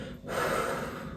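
A single audible exhalation during a yoga sculpt strength-and-stretch class, a steady breathy rush that swells after a short pause and holds near and clear to the end, with no talking.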